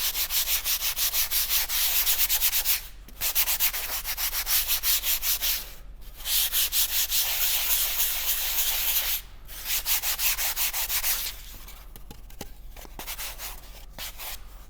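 A foam climbing hold is sanded by hand in steady back-and-forth strokes, a close, rhythmic rasping that pauses briefly three times, then turns softer and more irregular near the end.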